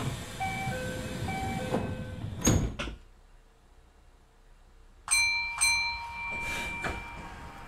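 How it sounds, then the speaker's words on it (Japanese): Sliding doors of a Kintetsu 1252 series train close in a BVE5 simulator on the Kintetsu Nara Line express, a single fairly loud thud after a steady hum, then quiet before bright chime-like tones sound. "扉が閉まります。"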